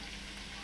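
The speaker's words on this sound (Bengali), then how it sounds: "লবণ দিয়ে ফ্রাই করব" Fish fries with salt in a pan, a steady, close, hissing sizzle that holds even through the short moment, with no talking.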